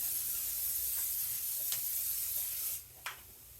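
Olive oil poured over onions already cooking in a pan for caramelized onion miso pasta, giving a strong, even hiss that drops away near the end, leaving a couple of faint crackles.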